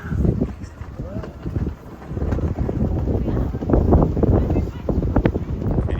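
Wind gusts across the deck of the tall ship Lynx, buffeting the microphone in steady rough bursts beneath near continuous voices of people talking close by.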